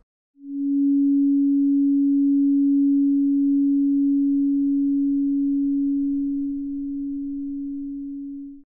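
A single pure, steady sine tone at about 281 Hz, roughly C sharp, swells in quickly, holds for about eight seconds, then slowly tapers off.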